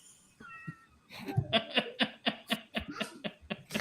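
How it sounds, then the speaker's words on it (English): A cat meows and chatters in a quick series of short calls, close and fairly quiet, with no voices alongside. "Cats."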